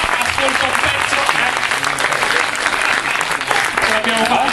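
Audience at a conference in Italy applauds steadily and loudly, a dense wash of clapping filling the whole moment.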